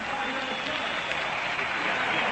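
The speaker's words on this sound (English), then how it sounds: "He got a nice round of applause" A stadium crowd at a St. Louis World Series game between the Yankees and Cardinals applauds steadily for Cardinals shortstop Marty Marion, a dense wash of clapping heard from a distance on a radio broadcast.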